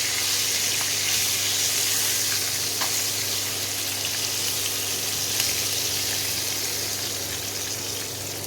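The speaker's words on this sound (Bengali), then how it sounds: "এইরকমভাবে মাছগুলো ভাজবে।" Tangra fish frying in oil for mouri tangra, a continuous even sizzle with a low steady hum beneath and an occasional soft tick, no voices.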